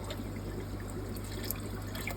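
Water pours steadily into an aquarium tank for Malawi cichlids during a water change, making a continuous, even rush and trickle throughout with no voices.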